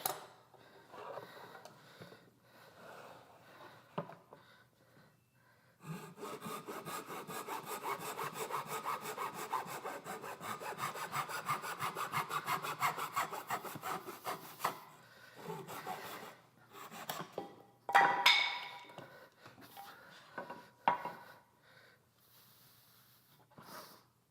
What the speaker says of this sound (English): take this to the crosscut saw, whatever you'd like